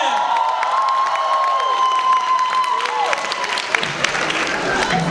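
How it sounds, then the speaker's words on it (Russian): Festival audience applauding loudly and steadily throughout, with crowd noise and scattered cheers and whoops layered over the clapping. "Проводим их бурными аплодисментами!"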